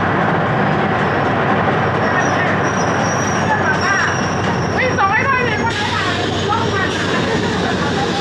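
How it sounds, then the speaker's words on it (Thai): A single-car diesel railcar runs on the line from Wongwian Yai toward Mahachai in Samut Sakhon, with a loud, continuous rumble and rattling wheel clatter close by. Someone talks over the noise. "นี่คือรถไฟนะครับรถไฟ ดีเซลรางเดี่ยวนะครับ"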